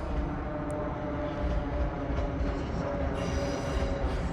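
A Class 377 electric train runs through Clapham Junction during the evening rush hour. Its rumble is steady and continuous, fairly close and loud, with a brighter hiss rising toward the end.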